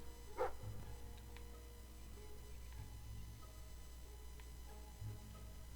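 A single short dog bark in the game Fable 3, sounding once near the start against a quiet, humming background, with faint ticks and soft thumps afterward and no talk.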